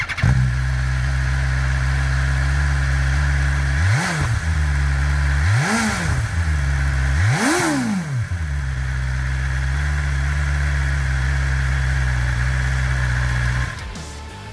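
A 2022 BMW S1000RR sportbike's exhaust idles steadily, then rises in three sharp throttle blips spaced a couple of seconds apart before settling back to a loud, close idle that cuts off near the end.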